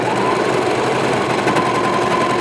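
A serger stitches a sweatshirt seam, running as a fast, loud, continuous mechanical whir with rapid chattering, close up and without a break.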